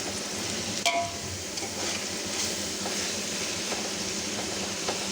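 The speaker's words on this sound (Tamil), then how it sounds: "இப்போ பாருங்கள், தக்காளியும் நல்லா வதங்கி எண்ணெயெல்லாம் பிரிஞ்சு தனியாக தெரியுது பாருங்கள்." Tomatoes sauté in oil in a heavy pot, giving a steady low sizzle and frying hiss with a few faint scraping stirs. No one talks.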